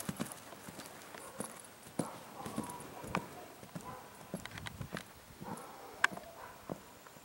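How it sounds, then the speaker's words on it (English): A horse walks with steady clip-clopping hooves on hard ground, the irregular footfalls fairly close, with a few sharper knocks and light rustling around them. "I suck at videotaping horses"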